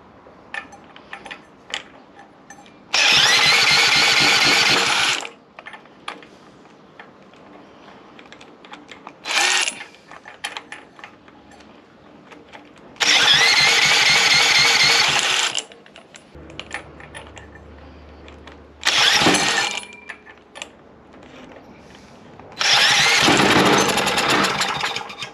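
A choked small engine is pull-started repeatedly: several loud bursts of sputtering, rough engine noise, each lasting a second or two, with brief lulls and rattling between attempts.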